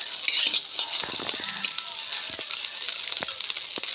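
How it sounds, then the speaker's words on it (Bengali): Fish fries in a pan at home with a soft, steady sizzle and faint crackles. Occasional light clinks and stirring sounds are mixed in. "মাছটা ভেজে নিই ভালো করে।"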